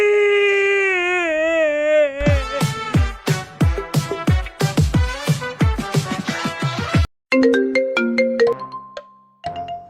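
An incoming phone call's ringtone plays a loud, clear melodic tune for several seconds, briefly breaks off, then resumes with a different set of bright electronic tones.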